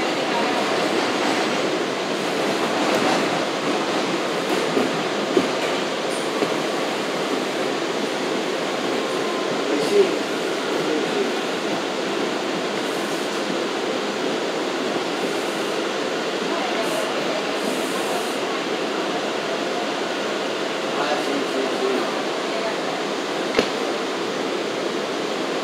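An R179 J local subway train running Queensbound, heard from the back window, gives a steady low rumble of wheels on rails with faint clicks and occasional clanks throughout.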